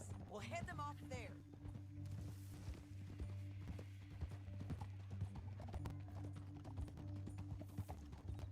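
Steady hoofbeats of horses clip-clopping along at a quick pace in the video game Red Dead Redemption 2, over a low droning musical bed, with a brief whinny near the start.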